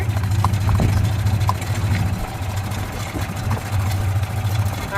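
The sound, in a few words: golf cart engine running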